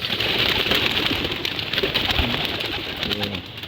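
Pigeons cooing softly against a steady outdoor background hiss, with low, throaty calls repeating faintly.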